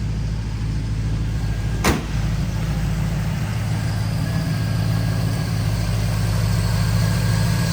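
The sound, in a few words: 1936 Ford sedan engine running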